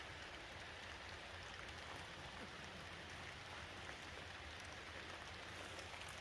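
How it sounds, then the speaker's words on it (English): Gentle, windless rain falls in the hills at a winery, a soft steady patter and hiss that stays faint and even throughout with no voices. "it's just a nice gentle rain, no wind"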